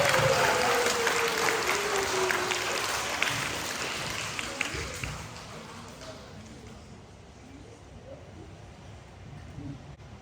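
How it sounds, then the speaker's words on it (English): Elementary schoolchildren clap for their classmates at a National Elementary Honors Society ceremony, a crowd of applause that is strongest at first and then thins out and fades over several seconds. "I'm so excited about the way the boys and girls clap for their friends and classmates"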